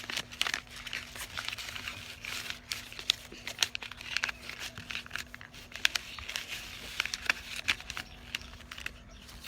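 Paper being folded by hand into a heart shape gives a close, steady crinkling and rustling with quick sharp creases throughout, no one talking.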